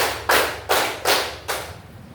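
A classroom of students claps in unison on the teacher's count, four sharp group claps at an even pace, close and loud with no talking between them.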